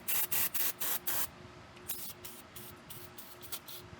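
Brake cleaner sprays in six short, loud hissing bursts onto the rusty parking brake drum of a Jeep TJ, close by, followed by quieter scraping and rustling.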